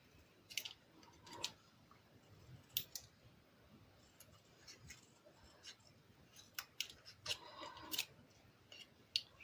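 Scissors snip at paper or craft material in a quiet room, a scattered series of soft, close clicks and cuts, some in quick pairs, with faint rustling between them and no talk.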